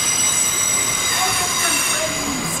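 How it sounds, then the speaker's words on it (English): A train rolls past a skatepark in Mullingar, loud and continuous, with high-pitched wheel squeals rising and sliding over the rumble of the carriages. "It's a train!"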